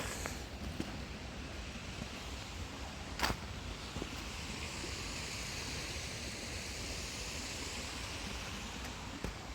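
Creek water flows over rocks in a steady, broad rushing wash that stays even and close for nearly ten seconds, broken only by a few faint clicks.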